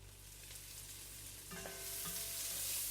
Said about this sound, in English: we're frying the onions now